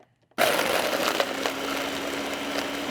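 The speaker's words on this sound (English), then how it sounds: "And you want to blend it up." A powerful countertop blender whirs loud and steady as it purees a summer drink, starting abruptly after a moment of silence and running on continuously with crackling, chunky bursts early on.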